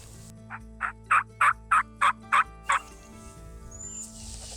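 Wild Rio Grande turkeys in southwest Texas gobble in a rapid series of about eight loud, evenly spaced bursts, followed by quieter background noise.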